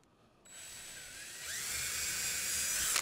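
Electric drill whirring at high speed as it pre-drills screw holes into a wooden dovetailed box, starting after a brief quiet moment and rising in pitch and intensity as the bit bites into the wood, close and alone.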